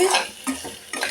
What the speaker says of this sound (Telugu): ఇది కూడా బాగా డ్రై అయ్యేలాగా తిప్పుకుందాం అండి.